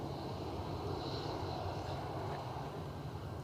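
A Sun Express airliner departs Edinburgh Airport, making a steady, distant roar of jet engines with a broad rumble that holds throughout and no voices.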